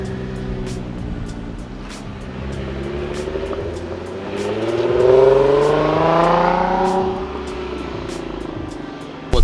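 A twin-turbo 2015 Nissan 370Z Nismo drives past, its engine rising in pitch as it accelerates, growing louder mid-pass, then fading, with a sharp bump at the end.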